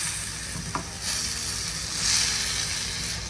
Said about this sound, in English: And we're just cooking this in a saute pan.